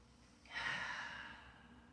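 A single slow, soft breath drawn in and let out during a home workout session, close and quiet with no talking.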